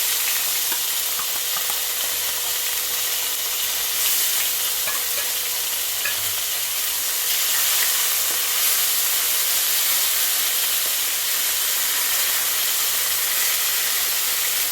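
Onion paste fries in oil with whole spices such as fenugreek, cardamom and cinnamon, giving off a steady, bright, hissing sizzle that holds close and even throughout with no voices.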